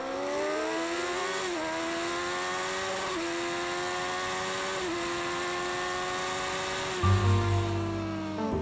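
A motorcycle laps a race track with a loud, close engine whine that rises and drops through several gear changes, ending in a rough, low exhaust burble as it slows.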